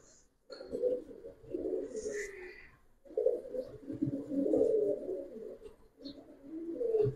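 Round-headed Giribaz pigeons cooing close by in soft, low, throaty phrases that repeat in bursts separated by short pauses, with a few faint higher chirps.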